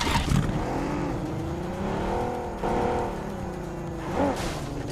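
A vehicle in the Free Fire game drives and accelerates, its engine rising and falling in pitch with repeated revving surges and a brief tire-like squeal near the end, loud and continuous, with no talking.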